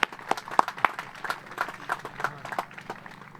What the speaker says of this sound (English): please join me in giving a round of applause to Matt and Rob with United Healthcare